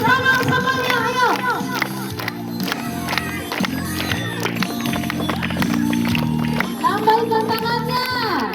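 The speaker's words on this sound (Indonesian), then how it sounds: "Tepuk tangan semuanya, ayo." Kindergarten children at TK Bhayangkari 16 Nias clap their hands in a steady rhythm while singing a children's song, the sharp claps running throughout under the voices.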